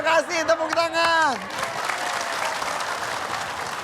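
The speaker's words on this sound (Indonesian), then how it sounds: "Terima kasih, tepuk tangan." Applause from a studio audience at an Indonesian religious TV show, rising after a voice trails off and then holding as a steady, moderately loud wash of clapping.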